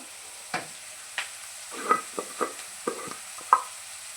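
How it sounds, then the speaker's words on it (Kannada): Brinjal and tomato masala frying in oil in a pan gives a faint sizzle under a series of distinct spoon scrapes and stirring strokes, about eight of them, irregularly spaced and close by, with no voices. "ನೀರೆಲ್ಲ ಹಾಕಿ ಚೆನ್ನಾಗಿ ಫ್ರೈ ಮಾಡ್ತೀವಿ."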